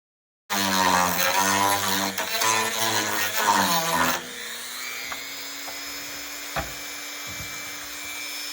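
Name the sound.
power drill drilling into wooden board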